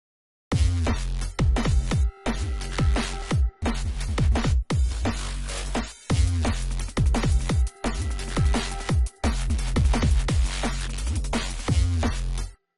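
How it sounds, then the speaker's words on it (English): A busy drum and bass track with punchy drums and deep bass, playing loud and continuous with brief gaps between phrases. "So it's really simple, really generic drum and bass kind of stuff"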